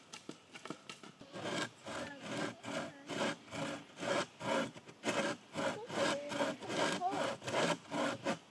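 Hand saw cutting through wood for picnic table legs, a close, steady rhythm of back-and-forth rasping strokes, each push and pull clearly separated by brief pauses.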